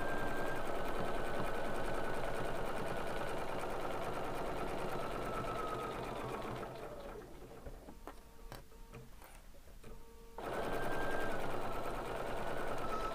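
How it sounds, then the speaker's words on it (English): A sewing machine stitches steadily around a ravioli quilt block with wadding and batting, a close, even mechanical whir that pauses briefly midway before resuming. "So I'm actually making a little quilt sandwich here, or quilt block, with the wadding and batting in place, and stitch all the way around."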